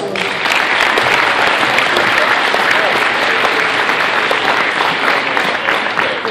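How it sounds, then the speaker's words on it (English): Loud, dense applause from young wrestlers honoring their parents at a wrestling seminar, a steady wash of many hands clapping close by for the whole stretch without letup. "I wanted us wrestlers to give our parents a round of applause"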